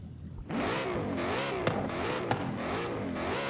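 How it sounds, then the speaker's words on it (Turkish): A Ford Mustang RTR in the Forza Horizon 5 racing game revs hard after a short quiet lead-in, its engine note rising and falling in repeated loud surges with a couple of sharp pops, close and alone. "Azıcık şu arabanın etrafında dönüp çok kısa süre bir gazlayıp sesini de duyalım."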